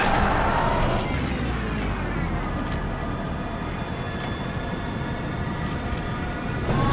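Aircraft engine spinning up on an airstrip in Splinter Cell Blacklist: a loud, sustained roar with whining tones that shift in pitch, droning continuously throughout.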